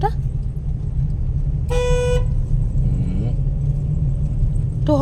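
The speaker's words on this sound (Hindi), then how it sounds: "तू हॉर्न मार दउछु" A car horn honks in a long sustained blast, with a shorter toot at the very end, over a steady low engine rumble as a car is driven on a road, with voices nearby.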